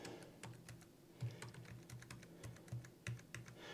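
Fingers type on a computer keyboard while setting up a System2 servo starter kit, producing quiet, quick, uneven clicks in short bursts.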